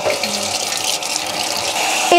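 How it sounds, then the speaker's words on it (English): Cold tap water runs steadily into a kitchen sink with a constant, fairly loud splashing hiss, and a short higher clink comes near the end. "and some cold water in the sink."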